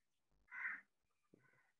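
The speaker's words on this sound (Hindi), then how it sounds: "पक्षी हैं मेरे आसपास, अलग अलग पक्षी हैं, अपने अपनी आवाजें निकाल रहे हैं।" Birds call close by in a quiet outdoor spot, a single loud caw-like cry followed by a fainter, shorter call, with no voices.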